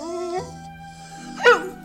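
A dog whimpers and whines in a radio drama, with drawn-out high, wavering cries near the mic and a sharper yelp toward the end.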